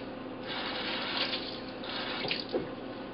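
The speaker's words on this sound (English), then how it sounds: "I'm just going to rinse this out and get rid of the rest of the seeds." Tap water runs steadily into a kitchen sink while a hollowed-out jalapeno is rinsed under the stream, a close, continuous splashing rush with small shifts as the pepper moves through the flow.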